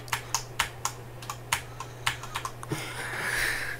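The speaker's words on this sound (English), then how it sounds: "It's actually not clicky at all. You just hear the clack." Corsair K70 RGB mechanical keyboard keys clacking close up, a dozen or so crisp, uneven keystrokes in quick succession, followed by a brief soft rustle; no talk.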